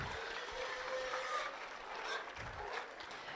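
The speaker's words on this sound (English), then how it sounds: "let's give these kids a round of applause for a nice prospect drive." A round of applause for kids at a 4-H market hog show at the Elbert County Fair, a steady wash of crowd clapping in an arena, fairly distant, with faint chatter mixed in.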